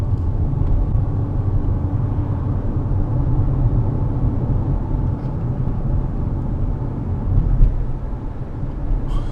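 A small car with a mattress and dresser loaded on top rolls past outdoors, a continuous low vehicle rumble of even loudness throughout.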